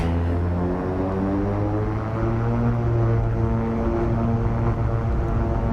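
A Beechcraft King Air 350 turboprop in the X-Plane 11 simulator holds a steady, loud, droning engine hum with layered tonal whine throughout its takeoff roll, with no speech.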